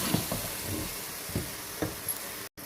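Vegetable pulao ingredients sautéing with yogurt in a pot, a quiet steady sizzle with a few soft stirring scrapes, ending in a sudden brief dropout.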